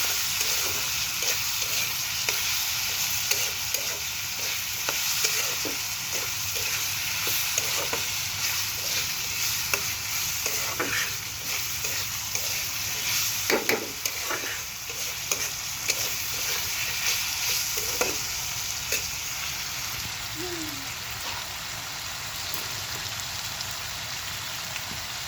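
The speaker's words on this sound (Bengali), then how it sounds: "এখন একটু নাড়া দিয়ে ঢেকে দিব," Potatoes seasoned with salt and turmeric sizzle steadily in a frying pan while a spoon stirs them in a regular scraping rhythm, close and continuous with no talk.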